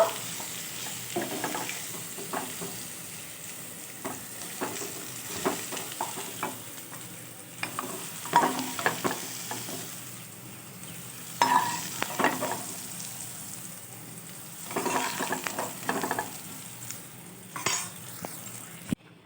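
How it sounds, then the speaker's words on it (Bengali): Potato pieces fry in a kadai for a vegetarian pointed-gourd dish, sending up a steady wash of hot-oil sizzle with scattered crackles and occasional scraping stirs close by, no voices over it. "আলুগুলোও আমার ভাজা হয়ে গেছে আলুগুলোতে রং ধরে গেছে"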